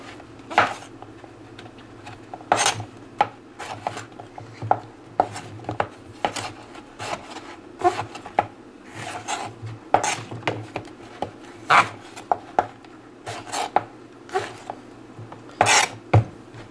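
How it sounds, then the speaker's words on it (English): Knife chopping squash and baby bella mushrooms on a cutting board, a run of sharp, irregular close knocks and taps with brief pauses between cuts. "All right, so I'm just gonna kind of chop this roughly."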